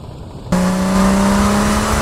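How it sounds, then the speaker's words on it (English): A car driven in the Dreamcast port of GTA Vice City starts up abruptly after a quiet moment, settling into a steady, loud engine drone with a sustained low hum. "I use this car for this mission."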